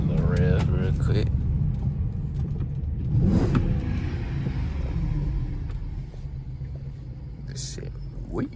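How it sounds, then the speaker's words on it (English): A 345 Hemi car engine rumbles close by and rises into a rev before easing back, with voices talking over parts of it. "Let's just give y'all a little revs real quick."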